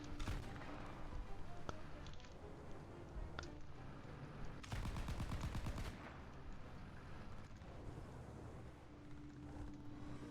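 Cannon fire from a tank's big shot cannon in War Thunder: sharp, heavy blasts, then a dense rapid burst of repeated shots mid-stretch, over a steady rumbling battle background with no talking.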